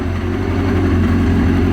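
A 2003 Yamaha RX1 Genesis Extreme snowmobile with a 1000cc four-cylinder engine idling close by, a steady low throbbing rumble with a smooth, even pulse and no voices.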